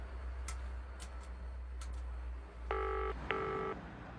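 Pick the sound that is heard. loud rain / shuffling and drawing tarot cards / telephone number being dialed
telephone number being dialed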